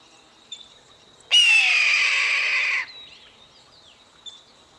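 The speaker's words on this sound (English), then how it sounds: "And that is the scream of the red-tailed hawk." A single harsh, drawn-out red-tailed hawk scream lasting over a second, loud against a quiet background with faint chirps.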